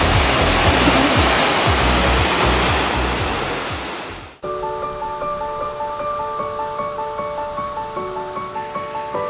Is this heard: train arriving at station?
no